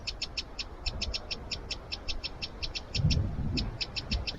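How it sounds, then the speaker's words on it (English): A small bird calls in quick repeated high chirps, a steady rapid series over low outdoor rumble and wind on the clifftop South Downs Way near Seaford. "See a little bird there making that noise?"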